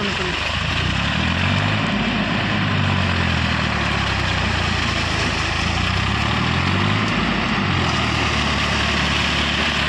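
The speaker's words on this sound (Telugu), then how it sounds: "డ్రోన్" A loud, steady whirring motor hum whose pitch rises and falls, like a drone hovering and flying nearby, continuing throughout.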